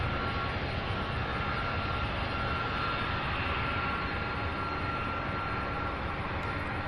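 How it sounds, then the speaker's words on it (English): An Airbus A300 taxis at Louisville International Airport, producing a steady, distant engine rumble and broadband roar that holds constant throughout. "there's an A300 on taxi now"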